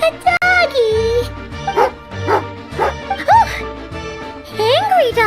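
An angry dog in the video game Genshin Impact barks and yips repeatedly, loud and close, with whimpering tones between the barks and game music running underneath.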